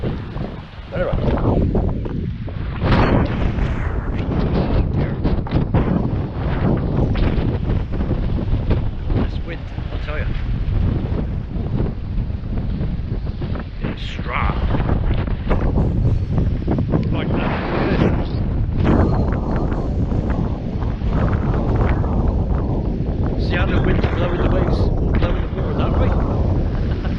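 Strong gusty wind buffets the microphone on the Lilstock coast by the Bristol Channel, a loud continuous roar with repeated harder blasts, while a voice speaks at times beneath it.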